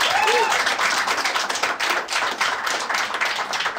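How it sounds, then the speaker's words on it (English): A stand-up comedy audience gives scattered, partial applause, a moderate patter of claps from a portion of the crowd that thins unevenly over a few seconds. "Not applause from everybody, I'll tell you that right now."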